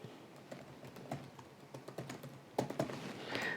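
Typing on a computer keyboard in a quick, uneven run of close, soft clicks, with a denser burst near the end, quiet throughout and no voices.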